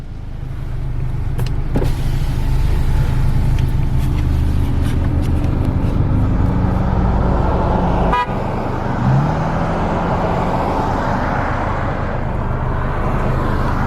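A Volkswagen MK7 GTI drives with a loud, steady engine drone and road rumble throughout, broken by a brief sharp click or pop near the middle before the engine noise resumes.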